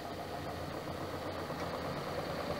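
An electric motor driven from a battery spins a flywheel in a regenerative-braking demonstration, producing a continuous, steady mechanical hum and whir throughout.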